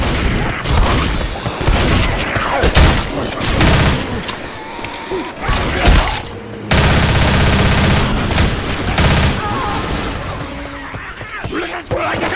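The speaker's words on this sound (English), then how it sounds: "That's where I get gunfire!" Gunfire in the Left 4 Dead video game fills the scene: rapid bursts of shots and heavy booms, loud and close, with a sustained noisy stretch in the middle.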